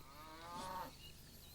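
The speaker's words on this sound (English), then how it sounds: "Herd of cows." A single long, low cow moo swells and fades, fairly close and clear, with faint steady background noise underneath.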